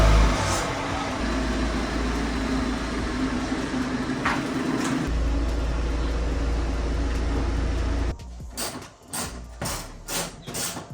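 A BMW N54 engine in a manual car runs at a steady idle with a constant low rumble and hum for about eight seconds, then cuts to quieter, uneven mechanical noises and knocks.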